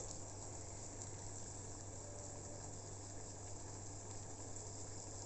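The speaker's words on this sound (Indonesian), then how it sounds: "air mendidih ya." Water boils steadily in a pot while a radiator thermostat is tested, giving a continuous bubbling hiss at low level with a faint hum beneath and no speech.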